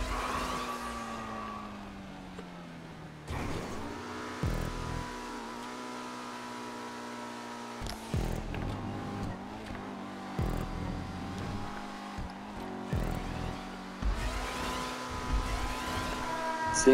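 Cars race through a Grand Theft Auto V stunt race, their engine tones droning and shifting pitch with abrupt cuts and steady mid-level volume, and no voices over them.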